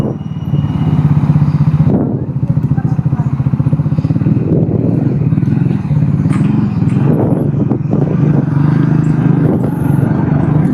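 Motorcycle ridden on a town road in Tamil Nadu during a bike trip, its engine a steady loud drone with rumbling wind noise and a slight rise in revs, continuous throughout.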